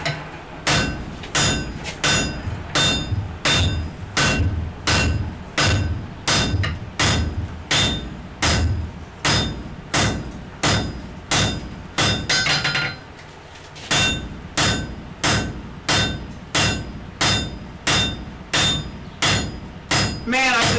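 Heavy hammer blows ring out on an anvil as hot wrought iron is forged into a sledge hammer, a steady run of loud, evenly spaced metallic strikes with a brief pause midway before the rhythmic pounding resumes.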